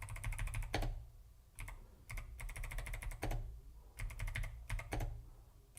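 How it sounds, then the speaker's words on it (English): Keys on a 1988 Macintosh II keyboard clatter in quick bursts of presses with short pauses during a Tetris game, close and crisp over a steady low hum. "Just gliding through keyboard presses"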